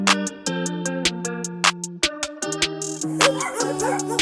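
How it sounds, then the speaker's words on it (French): Several dogs bark repeatedly at the SPA animal shelter in Sarrebourg, loud and close, with sharp overlapping yips and high whines, and no talking. "il y a plein de chiens"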